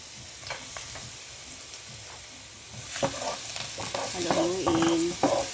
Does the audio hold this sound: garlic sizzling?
yes